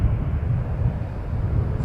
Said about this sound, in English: Delta 2468 to Salt Lake City on a 319. Departing.